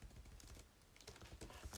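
Computer keyboard keys tapped in quick, uneven bursts during a Python coding session, soft close clicks with a brief pause midway before the typing resumes.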